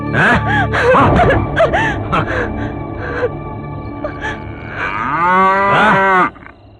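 A bull on a farm gives loud, drawn-out moos, one near the start and another long bellow toward the end, with a person talking in between.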